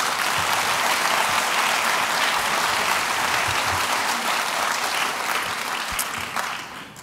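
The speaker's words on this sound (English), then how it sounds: "Let's give them another round of applause" Sustained audience applause fills a convocation hall for the Cooperative Extension centennial, loud and steady for about seven seconds before easing slightly at the end.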